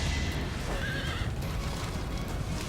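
A horse whinnies once, loud and close, in the video game Fire Emblem: Three Houses, over a steady wash of in-game background noise with faint hoof clip-clop.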